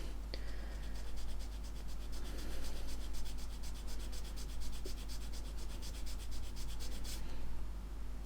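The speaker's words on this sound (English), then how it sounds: "And sand the thing flush." A sanding stick rubs flat against the side of a plastic scale model cockpit part, a continuous close scratchy rasping with a steady back-and-forth texture and no talking.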